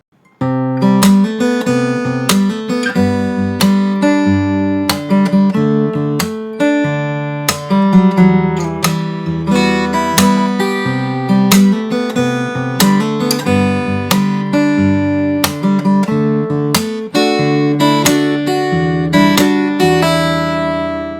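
Solo fingerstyle acoustic guitar plays the verse of a K-pop Demon Hunters song, evenly plucked melody over repeated bass notes, close and clear with no voices.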